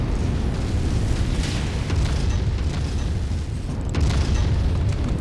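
Explosions and heavy weapon fire from battling mechs in the video game MechWarrior 5, a dense, sustained rumbling roar with a fresh burst near the end, loud and continuous.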